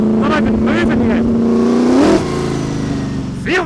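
A 900hp V8 sprint car engine idles with a deep, loud, steady throb that swells briefly before settling, while someone talks over it.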